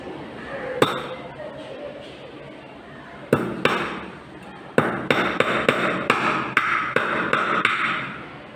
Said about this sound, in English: Now I am going to hit with the hammer.